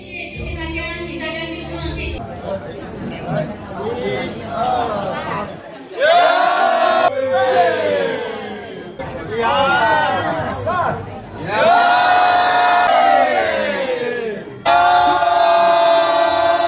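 A crowd cheers and shouts at a Chinese wedding celebration in loud, dense surges that rise and fall over several seconds, with chatter in between the waves.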